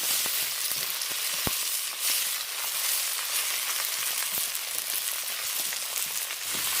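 Tomato, onion, ginger and garlic frying in oil give a steady, dense sizzle with a few crackles and pops. It runs unbroken for the whole stretch, with no talking.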